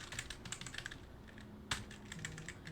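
Quiet, quick keystrokes on a computer keyboard, irregular clusters of light taps with one sharper clack midway, close and alone.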